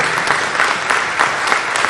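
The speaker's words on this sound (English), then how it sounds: "can we get a round of applause for Bill on the panel?" Audience at a live panel event applauds steadily after a speaker's introduction, a dense wash of many hands clapping at close to moderate distance with no talk over it.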